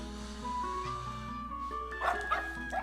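A dog barks and yips in the video game Boot Hill Bounties, a few short, sharp barks near the end over a steady, droning game music backdrop.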